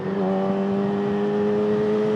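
A 2019 Yamaha R6 motorcycle engine holds a steady, buzzing drone at constant revs, close and fairly loud, for a couple of seconds.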